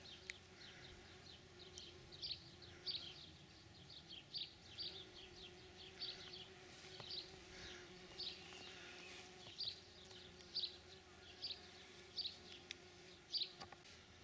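Bees forage around bird's foot trefoil growing beneath oxeye daisies in a June garden, giving a faint, steady buzz with brief louder passes close by, while faint birdsong sounds in the distance.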